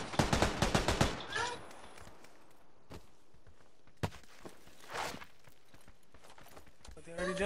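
Gunfire in PUBG: Battlegrounds: a rapid burst of close shots opens, followed by scattered single cracks and another short volley, with footsteps and a voice talking in between.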